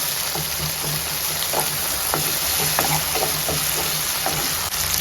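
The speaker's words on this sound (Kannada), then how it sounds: "ಇಲ್ಲಿ ಆನಿಯನ್ ಟೊಮ್ಯಾಟೊ ಚೆನ್ನಾಗಿ ಫ್ರೈ ಆಗ್ತಿದೆ." Onion, tomato and ginger garlic paste fry in a pan for a Kerala-style prawn masala, giving a steady close sizzle with occasional stirring scrapes and pops.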